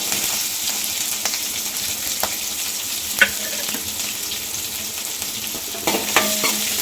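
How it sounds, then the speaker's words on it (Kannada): Steady sizzling and crackling of dried red chillies, onion and curry leaves in hot oil, with occasional sharper pops and a few stirring clinks, no voices. "ಈಗ ಎಣ್ಣೆ ಚಟಪಟ ಅಂತ ಇದೆ"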